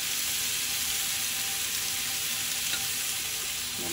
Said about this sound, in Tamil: இப்போ ப்ரான் ஃப்ரை ஆகிட்டுருக்கு